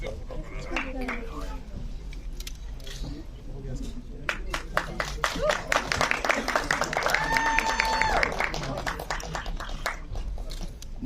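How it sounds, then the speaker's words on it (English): An audience at a press meet for the film Ek Villain Returns in Delhi claps in a dense rattling burst that builds in the second half, with crowd murmur and voices running throughout. "The claps and hooting should keep coming."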